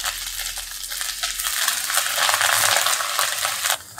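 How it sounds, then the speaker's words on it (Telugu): Ginger, green and dry chillies and curry leaves fry in hot oil for mango rice, giving a continuous bright sizzle and crackle with a few faint utensil clinks. "ఇవన్నీ వేసుకొని కొద్దిగా వేపుకోవాలి"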